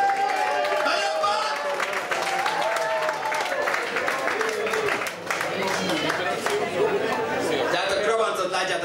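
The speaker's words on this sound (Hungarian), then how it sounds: "Nagy tapsot nekik!" Concert audience in Hungary applauding after a band's performance, a steady dense wash of clapping mixed with crowd chatter and cheering throughout, close and loud.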